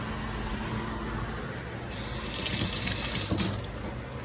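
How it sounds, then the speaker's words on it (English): Basil leaves rinsed under a running kitchen tap, a steady water stream that grows louder and splashier midway as the leaves go under the flow, then eases slightly at the end. "Let's go for like 5 or 6 leaves here. Just going to rinse them real quick."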